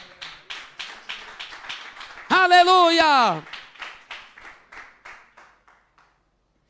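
Steady rhythmic hand claps in a church Bible study, about two per second, with a voice briefly singing out midway, the clapping gradually fading at the end.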